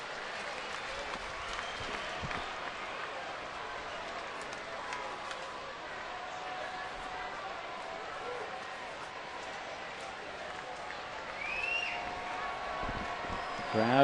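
Friday night baseball crowd at Petco Park fills the air with a steady, distant roar and scattered applause as Padres fans hope for a late rally, swelling slightly near the end, with announcers talking over it.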